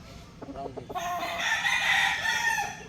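Roundhead breed rooster crowing nearby, a loud drawn-out crow lasting about two seconds after a few short clucks, alone without talk.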